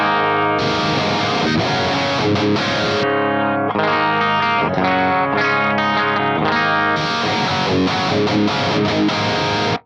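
Electric guitar played through an Axe-Fx III with distortion, chorus and delay, switching between amp scenes without any gap; loud, sustained chords ring continuously for about ten seconds, and the tone changes with no break in the sound.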